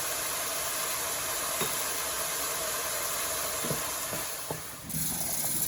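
Onion sizzles steadily in hot oil, a constant crackling hiss with a few faint clinks, and no talking.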